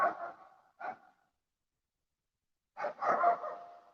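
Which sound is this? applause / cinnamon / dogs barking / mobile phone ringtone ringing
dogs barking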